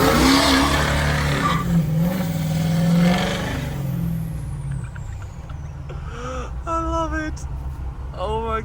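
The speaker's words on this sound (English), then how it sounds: "it's got the turbo noises." A 6.0 liter diesel truck engine revving with turbo whine and whoosh, loud and close at first, then winding down with a descending whistle as short tonal chirps follow near the end.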